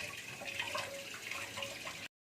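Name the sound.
water running while washing fish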